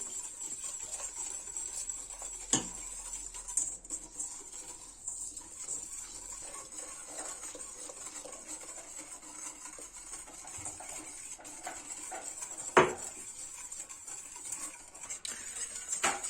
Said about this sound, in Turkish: 1 litre sütü yavaş yavaş ilave ediyorum. Karıştıra karıştıra